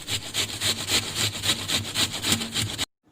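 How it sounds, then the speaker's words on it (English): Onions grated by hand for Indian-style chicken kebab, a steady rhythmic rasping with about a dozen quick back-and-forth strokes, close and fairly loud, with no talking. "So now let's grate these onions."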